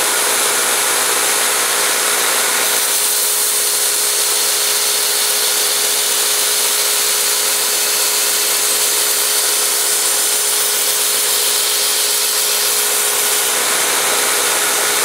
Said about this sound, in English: Starting off with a good sharp 220 grit belt.